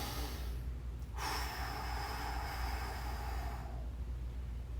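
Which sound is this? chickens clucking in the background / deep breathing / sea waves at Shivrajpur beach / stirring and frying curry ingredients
deep breathing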